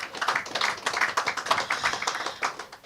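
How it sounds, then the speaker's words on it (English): Audience applause at a landfill commissioning ceremony: a steady patter of many hands clapping, moderately loud and fairly close, with no speech over it. "They deserve a round of applause."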